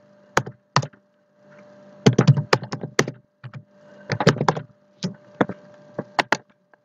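Someone types an email address on a computer keyboard, with bursts of quick key clicks separated by short pauses, close and clear over a faint hum.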